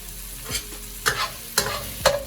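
Shrimp sizzling in a hot pan during a stir fry, a steady close sizzle broken by three or four distinct scraping stirs of a utensil at roughly even intervals, with no voices.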